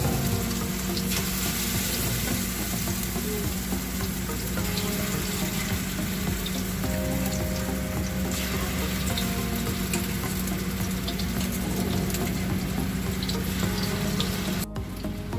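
Pakoras fry in oil in a home kitchen, dropped in one at a time, giving a dense, loud, continuous bubbling sizzle that runs throughout with no talking.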